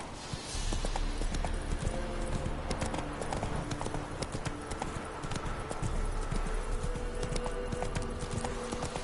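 A horse gallops in a PS4 video game, its hooves pounding in a fast, steady, continuous rhythm that stays loud and close the whole time, with no talking over it.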